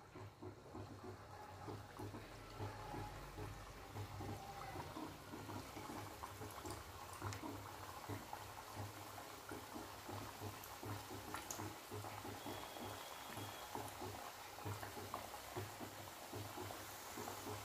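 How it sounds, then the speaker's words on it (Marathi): Chirote sweet pastries frying in hot oil on low flame, a faint, steady bubbling crackle that runs continuously at a low level throughout. "गॅस कमी करून घेऊया आणि हे जितके बसतील ना तेवढे टाकून तळून घ्यायचं."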